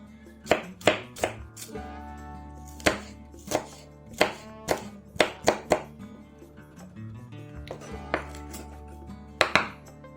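An Opinel No. 9 carbon-steel knife chops through food on a board in a steady series of crisp, close thuds, with faint clinks and no talking.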